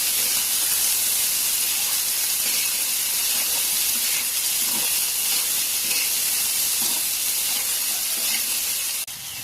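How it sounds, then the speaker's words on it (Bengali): Boiled chickpeas sizzle in a frying pan, a loud, steady hiss that holds unbroken from start to finish. "এবার এর ভিতরে সেদ্ধ করে রাখা ছোলাগুলো দিয়ে দিচ্ছি।"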